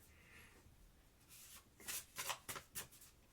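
A newly bought oracle card deck is shuffled quietly, with soft rubbing followed by a few sharper bursts of cards riffling together near the end.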